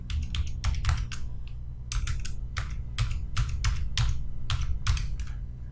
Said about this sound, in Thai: พิมพ์เข้าไปเลย